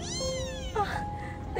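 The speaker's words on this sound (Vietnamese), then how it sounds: "Tiếng gì này, sao tiếng mèo con kêu này?" A small kitten meows in a cartoon, giving a few thin, high, drawn-out cries over a steady background wash with no talking.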